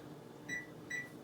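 An oven timer being set gives two short, faint electronic beeps about half a second apart over a low background hum.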